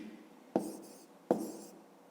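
Pen or pencil writing out a math solution on paper, two short scratchy strokes with a pause between them, faint and close in a quiet room.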